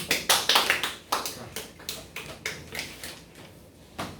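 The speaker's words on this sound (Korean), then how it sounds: "박수" A small group claps briefly in an office meeting: a short round of close, uneven applause that fades out after a few seconds, with no talking.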